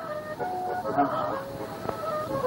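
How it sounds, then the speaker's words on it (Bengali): River birds honk and call over a city, with faint goose-like cries sounding distant and thin through a steady background hum. "নদের পাখিগুলো এখনো এই শহরের ওপর দিয়ে"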